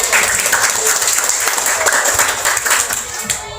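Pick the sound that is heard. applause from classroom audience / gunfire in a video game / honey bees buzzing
applause from classroom audience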